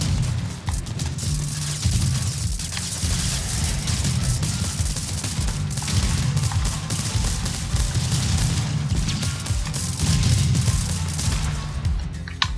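Missiles and cannons fire in rapid, overlapping volleys in TerraTech, the blasts and booms coming in a dense continuous barrage at moderate loudness without any talk.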